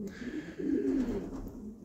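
Racing pigeons cooing close by in a loft, a soft low throaty coo swelling briefly in the middle, with faint background hum and no talk.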